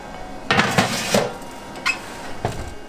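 Clanks and knocks of metal baking trays and oven racks as burger buns go into an oven preheated to 200 degrees: a few sharp, close metallic hits spread out over a few seconds with quiet in between.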